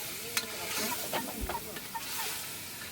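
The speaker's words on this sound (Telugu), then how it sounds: "ఇది లాస్ట్ కల్లా అలా కలుపుకోవాలి లేదంటే అడుగుతుంది" Chicken curry being stirred in a pan at a street food stall, soft scraping strokes and a low sizzle, fairly quiet with a few sharper clinks of the spoon against the pan.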